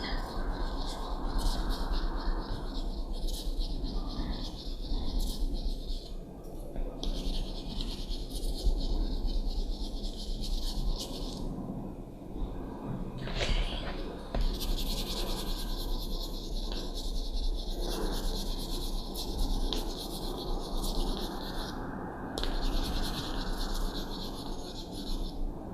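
A smooth nail buffer rubs and shines fingernails during a close-up manicure, giving a steady soft rasping in repeated strokes, up close and continuous.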